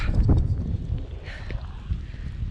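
Strong mountain wind roars in gusts across the microphone during a spring snowstorm high on an alpine trail, a steady low rumble with a brief muffled voice.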